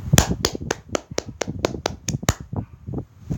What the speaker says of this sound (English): one more 10 claps.